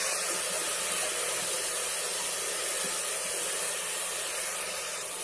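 Spring onions fry in hot oil over a high flame, giving off a steady, dense hiss that stays even and unbroken from start to finish.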